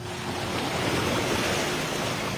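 Sea waves wash steadily onto a beach, a continuous broadband surf roar with some wind noise across the microphone, close and fairly loud with no talking.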